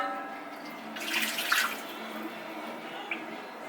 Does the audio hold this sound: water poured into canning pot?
yes